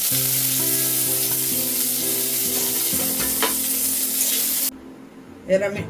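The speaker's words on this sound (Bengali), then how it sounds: "ঘি গরম হয়ে গেছে, এবার কাজু কিশমিশগুলো ভেজে নেব।" Cashews and raisins sizzle loudly in hot ghee in a pan, a steady close crackle lasting several seconds before cutting off, followed by a brief clink of stirring.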